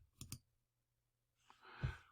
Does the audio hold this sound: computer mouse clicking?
yes